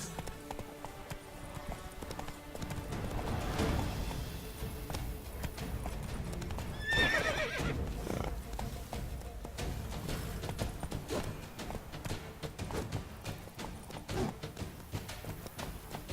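Horse hooves clip-clop in a gallop in The Witcher 3, with a steady rhythmic hoofbeat, a horse's whinny around the middle, and ambient game sounds underneath.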